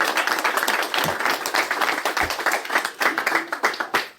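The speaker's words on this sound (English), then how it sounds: "a round of applause. One more time." Audience applause at a recovery talk, dense loud clapping from a crowd that continues steadily with rhythmic surges throughout.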